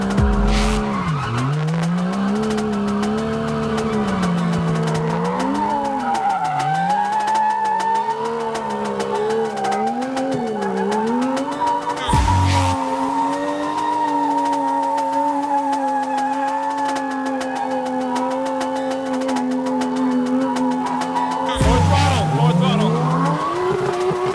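A car spins donuts while drifting, engine revving and wavering as the tires squeal in a long continuous shriek, broken by a couple of brief bumps or thuds, loud and close throughout.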